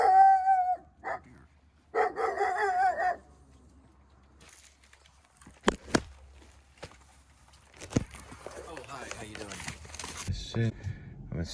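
Several dogs bark in loud, close bursts, alternating with footsteps and rustling; a person talks in between the barks.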